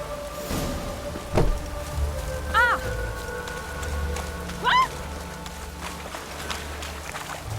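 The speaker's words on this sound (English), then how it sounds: "Looked like it would rain, and here it is." Steady rain falling in The Witcher 3 in a city street setting, a constant hiss with a couple of brief tonal chirps and a low thud mixed in; no talking.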